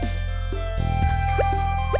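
Glistening water in Stardew Valley gives off soft, evenly spaced drips, several small plops landing over a steady bed of game music.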